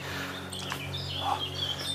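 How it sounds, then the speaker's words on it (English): Faint, high bird chirps and short trills, including a wren, come through over a quiet low hum, a few scattered calls in a calm woodland setting. "Can you hear the birds?"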